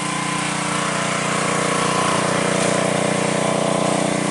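A gasoline trash pump runs steadily outdoors, drawing water out of a swamp with a float and bucket on the intake, its engine a loud constant drone with no pauses or voices.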